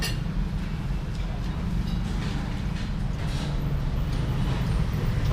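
A passenger train rolls steadily along the line in Myanmar, heard from inside the carriage as a continuous low rumble with faint rattling and clinking, loud and unbroken throughout.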